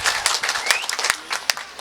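Audience applause from a crowd at a Tamil comedy debate stage event, a short burst of brisk, dense clapping heard alone without voices.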